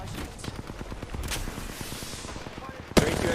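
Rapid, evenly spaced gunfire from an Apex Legends match fills the clip, followed by a sharp loud charge rifle blast near the end, with a faint voice talking underneath.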